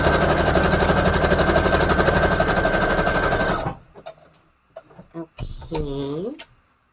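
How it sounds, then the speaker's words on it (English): A sewing machine runs a zigzag stitch across a paper collage in one loud, close, continuous burst, then stops; a few soft handling clicks and a short voice follow. "I'm just going to do a quick stitch. zigzag stitch."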